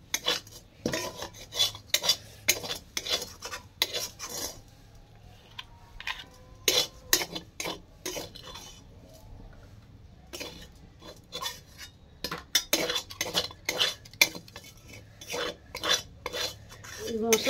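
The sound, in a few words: scraping and stirring spice paste in a pan for pomfret fry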